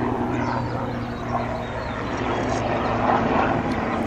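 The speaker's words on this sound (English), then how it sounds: "Chopper." Helicopter flying overhead outdoors, a steady droning engine and rotor hum at moderate loudness throughout, continuous without speech.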